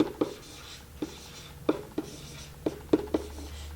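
Marker or pen writing on a board during an algebra lesson, a series of short scratchy strokes and taps in an uneven rhythm, close and moderately loud, with no talking.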